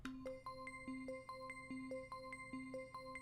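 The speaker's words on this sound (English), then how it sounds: "we're gonna add the bells with harmonics." Synthesized bell tones rich in harmonics play a repeating note pattern as background ambience in a dark trap-style beat, steady and moderately loud with no voices.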